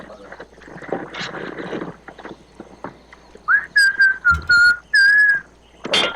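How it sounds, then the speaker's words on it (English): Loud, clear whistled notes, several sustained tones in a short tune, following a stretch of quieter talk in the background. "the whistling is loud."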